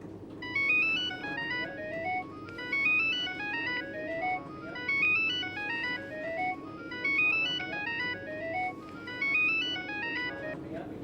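A phone ringtone plays a repeating melodic chime pattern, cycling in regular bursts for about eleven seconds, clear and fairly close, over a low background hum.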